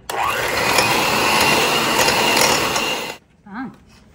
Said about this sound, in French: Et on crème à la mixette ou à la main.